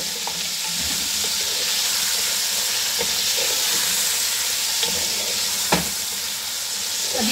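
Onions, ginger garlic paste and boiled chicken fry in a pan for Punjabi pulao, giving a steady loud sizzle with occasional stirring scrapes and clicks throughout.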